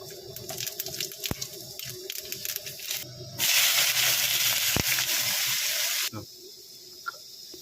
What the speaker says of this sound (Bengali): পেঁয়াজটা হালকা ভাজা হয়ে গেছে